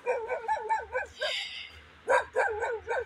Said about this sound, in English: are you not tired barking all day long?